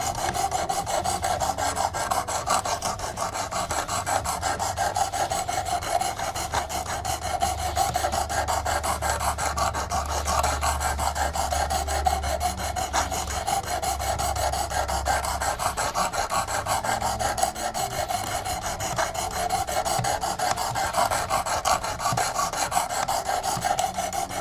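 A Work Sharp kit sharpens an Ozark Trail Wanderlust knife blade with steady, continuous rasping strokes against the abrasive, close and even in loudness throughout, with no voices.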